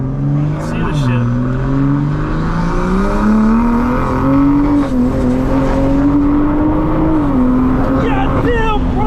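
700HP Toyota Supra on E85 accelerating hard, a loud close engine roar that climbs in pitch through gear changes, with a shift dip near the start, and voices briefly over it.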